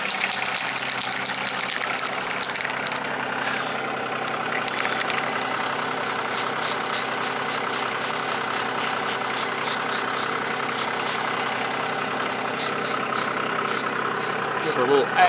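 A tractor engine idles with a steady mid-range rumble and fast rhythmic ticking, close by and continuous.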